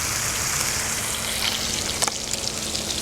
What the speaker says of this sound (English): it's time to add the tomatoes to the trinity